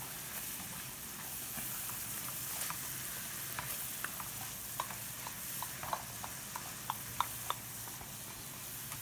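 Cornstarch-thickened sauce bubbling in a pan, a continuous soft sizzle with scattered small pops growing more frequent toward the end, no speech.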